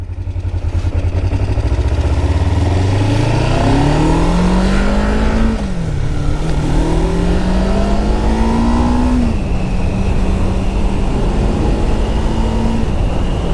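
A 1998 Kawasaki Ninja EX500R parallel-twin engine on a test ride, pulling through the gears with rising pitch, a brief drop at a shift, then climbing again, all under steady loud wind noise.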